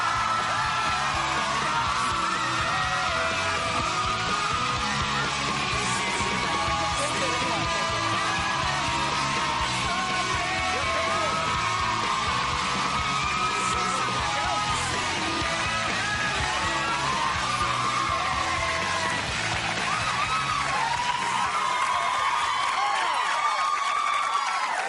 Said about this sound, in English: Start your screaming now for Zac Efron!